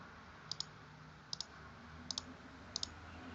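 A computer mouse gives four crisp, faint double clicks at a steady pace, each a quick pair of sharp taps against a quiet background.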